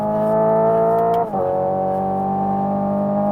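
Hyundai Ioniq 5N electric car accelerating hard on a racetrack, a steady layered synthetic drive tone holding loud and close, briefly dipping as if shifting, then continuing to build.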